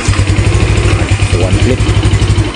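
A Yamaha Mio Sporty scooter engine fires up after a kick-start and settles into a loud, close, rapid putter with a steady pulsing rhythm.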